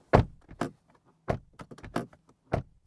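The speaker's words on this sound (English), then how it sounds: "It's what your door slam sounds like with your suck-in doors." Soft-close doors on a 2024 Volkswagen Touareg R being shut, giving several dull, muted thuds spaced across a few seconds with faint mechanical clicks between them, heard close up in a quiet setting.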